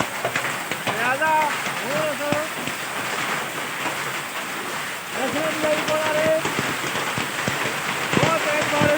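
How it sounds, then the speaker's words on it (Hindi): Heavy, stormy rain pours steadily over Chowki city in Kashmir, a dense continuous hiss of drops on surfaces with a voice speaking over it at intervals. "बहुत तेज बारिश झालाबारी को बहुत तेज झालाबारी हो रही है"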